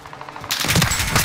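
Gunfire erupts in Call of Duty: Modern Warfare, a sudden loud volley of rapid shots and impacts after a quieter lead-in, close and harsh, with no voices.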